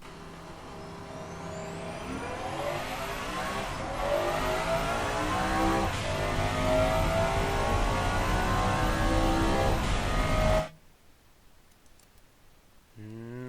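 A loud, raw 1990s supercar engine without mufflers screams in the video game Automation as it accelerates through gears for about ten seconds, pitch climbing, then cuts off abruptly into near silence.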